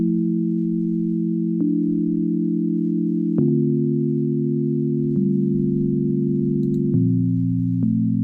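Steady sine wave synth tones that hold and step between low pitches, with soft clicks at each change, smooth and sustained with no voices.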